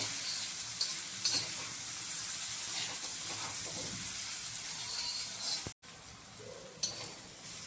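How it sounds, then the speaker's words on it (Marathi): Tomato sautéing with browned onion in a pan for a dried-shrimp curry, a steady close sizzle and hiss with occasional stirring scrapes, briefly cutting out before the frying resumes. "हा टोमॅटो पण आपण कांद्यामध्ये परतून घ्यायचा"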